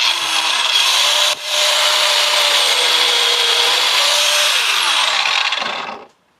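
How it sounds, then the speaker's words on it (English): An angle grinder cuts into the metal casing of a Husqvarna FT-900 tiller transmission with a loud, harsh, sustained whine. The tone dips briefly near the start, then runs steadily before spinning down to silence, with no talk. "You probably never should use a grinder one-handed."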